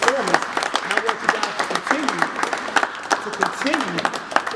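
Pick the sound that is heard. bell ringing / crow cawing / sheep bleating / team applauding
team applauding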